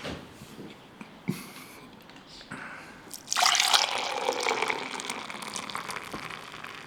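Baku draught beer being poured into a glass, a quiet trickle and a few drips at first, then a sudden, steady gushing pour that fills the glass close by.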